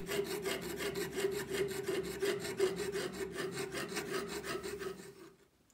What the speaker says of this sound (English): To cut out the disc a fret saw with a fine metal saw blade is recommended.